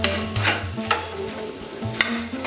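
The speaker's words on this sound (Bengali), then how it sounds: "ভালো করে নেড়ে নেব যাতে মশলাটা আলুটার গায়ে লেগে যায়।" Spiced potatoes are stirred in a pan with a steady scraping clatter and a low sizzle, broken by a few sharp spoon knocks against the metal.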